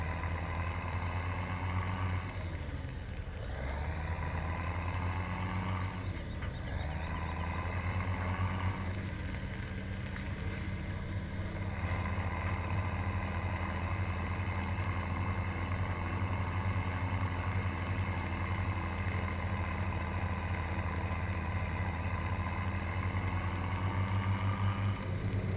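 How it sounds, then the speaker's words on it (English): A tractor engine in Farming Simulator 2017 runs at a steady low rumble throughout, with a couple of brief dips in tone early on, loud and continuous with no talk over it. "Love the sound on this tractor."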